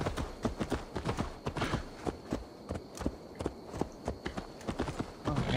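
Steady clip-clop of a horse's hooves from Assassin's Creed Valhalla as it climbs a hill, a fairly close, even rhythm with faint background ambience and no talk.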